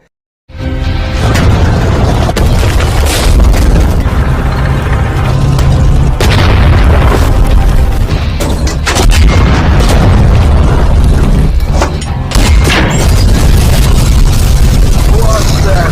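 Loud, heavy booms of German tank gunfire and explosions crash repeatedly over a rumbling mechanical din, dense and continuous, with voices mixed in.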